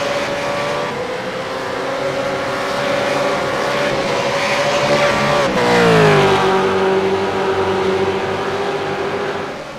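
Several V8 race cars roar past at Road America, a loud, sustained engine drone with a rising and falling pitch as cars bunch together and sweep by on the back straight.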